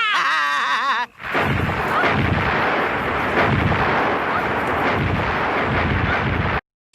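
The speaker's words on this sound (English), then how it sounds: "Soften her up with buckshot spells, Mistress Aggie" Magic buckshot spells fired in a fantasy witch film from 1986 set at a witches' school, a dense, continuous barrage of crackling blasts and booms filling the scene loudly for several seconds before cutting off abruptly.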